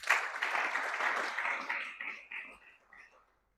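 A church congregation claps together in a steady burst of applause that fades out over a few seconds, indoors and moderately near.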